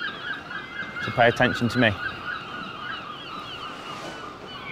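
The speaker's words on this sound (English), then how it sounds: "The seagull's more important than I am." A seagull calls nearby outdoors in a few loud squawking bursts about a second long. Someone speaks over the calls.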